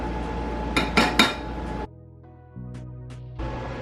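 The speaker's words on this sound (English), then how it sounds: "right now I'm scooping out the mangu" Metal utensil scraping and clinking against a pot while scooping mashed plantain mangu, three quick knocks followed by quieter taps, close and clear with no talk.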